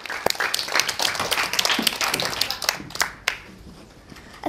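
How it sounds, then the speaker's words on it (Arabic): Children in a studio audience for a children's show give a burst of applause, dense clapping that rises and fades over several seconds with a few sharper claps near the end. "تصفيقة تصفيقة."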